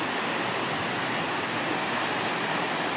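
Small waterfall on a narrow village stream, a steady rushing broadband wash of falling water, close and continuous with no voices.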